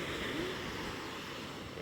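Big ocean waves churn out at sea, heard from a small fishing boat in rough southwest-monsoon conditions; a steady, broad wash of surf and wind noise fills the whole moment without pause.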